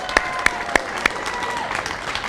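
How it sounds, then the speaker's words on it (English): A crowd at a supermarket grand opening applauds the Frederick Douglass High School Band and Chorus, steady clapping with a few sharp, louder claps standing out near the start. "Let's give the Frederick Douglass High School Band and Chorus a big round of applause"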